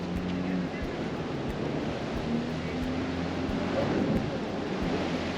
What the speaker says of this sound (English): waves crashing onto the shore.